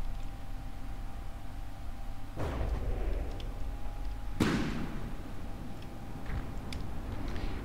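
Guns firing at incoming missiles in the naval combat video game From The Depths, two heavy thumping shots a couple of seconds apart over a steady mechanical hum, with faint distant pops after.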